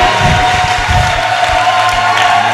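A church congregation at a prophetic worship service claps and cheers in a dense, continuous crowd roar, with a few low voices rising inside the noise.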